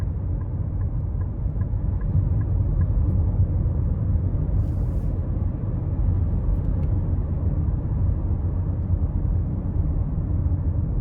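A 2021 Nissan Rogue SV 2.5 cruising through town, heard as a steady low cabin rumble of road and engine noise that holds even and fairly loud throughout, with no voices.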